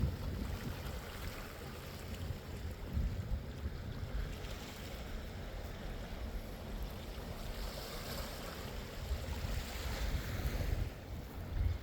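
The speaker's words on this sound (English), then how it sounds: "The big old Atlantic Ocean." Atlantic surf rolls against the rocky coast at Pemaquid, Maine on a foggy day, a steady broad wash of waves mixed with gusting wind buffeting the microphone, with no talking.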